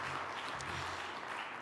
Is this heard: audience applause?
yes